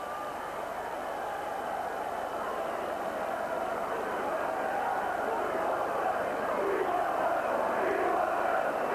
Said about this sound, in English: And we want 7, shout the crowd.